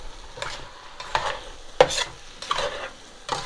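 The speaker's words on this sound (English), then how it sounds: "At this point, we're adding our meat back in. Spread it around. Mix everybody together." Meat being stirred back into a pot of beer chili, with scraping, sizzling strokes in a steady rhythm of about five passes, close and fairly loud, no talking.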